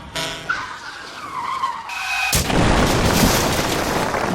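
A large truck charges along a fog-bound road outside Guangzhou before dawn: a screeching skid rises first, then a sudden loud crash breaks into a sustained, roaring wash of noise.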